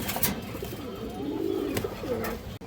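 Pigeons coo close by in soft, rolling low warbles, a few overlapping calls over a couple of seconds with faint background noise.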